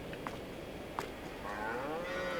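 Cattle mooing in a farmyard in the video game Farming Simulator 22, two short calls followed by a long, wavering moo, moderately close against a steady low background hum.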